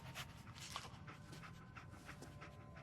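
Dogmeat, the dog companion in the Fallout video game, pants steadily in quick, breathy bursts at close range, with no talk.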